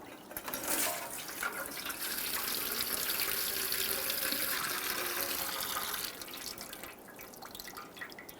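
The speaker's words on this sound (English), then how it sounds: "Now the fluid is going to come out." Windshield washer fluid drips and trickles out of the reservoir of a 2011-2021 Jeep Grand Cherokee, a steady close watery patter with no talk.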